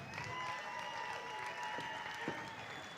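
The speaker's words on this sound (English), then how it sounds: "Let's give these guys a nice round of applause, please." Audience applause at a martial arts fight event, a steady wash of clapping from the crowd around the ring, moderately loud and sustained throughout with faint voices mixed in.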